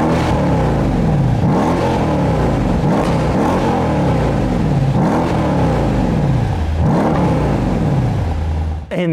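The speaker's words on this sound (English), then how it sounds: "Take a listen to this car's exhaust." Mercedes-Benz CLS63 AMG Shooting Brake exhaust, loud and close, swelling through four repeated revs that each climb and fall back to idle, steady and continuous with no voices.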